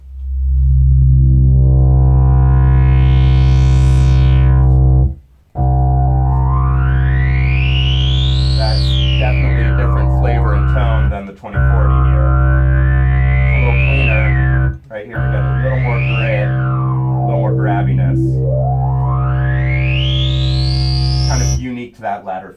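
A Sequential Pro 3 synthesizer holds a loud, thick bass drone while its ladder filter sweeps up and down with resonance, giving a singing, whistling peak that glides repeatedly. Short gaps briefly break the tone.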